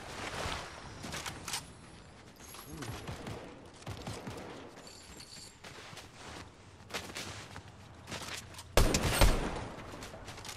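Rapid Fortnite gunfire rattles in quick bursts and scattered single shots over faint game background noise, ending in a louder, closer volley near the end, with no talking.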